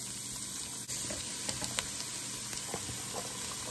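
Onions sizzling in a pan for homemade turkey chili, a steady crackling fry with scattered light pops and a faint utensil tap, fairly close and without talk.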